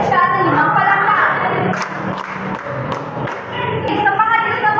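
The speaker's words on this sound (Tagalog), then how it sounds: "Bigyan siya ng 5 palakpak." Children in a Filipino classroom clap a short rhythmic set of five claps, sharp and close, with a teacher's voice and chatter around them.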